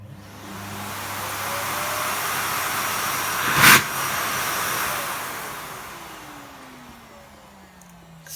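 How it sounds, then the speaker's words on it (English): A Miele vacuum cleaner with lost suction runs steadily with a broad whooshing roar and a faint straining tone, briefly surging louder near the middle before slowly tapering off. "if you listen carefully, you might hear a kind of straining noise"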